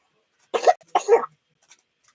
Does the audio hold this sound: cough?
yes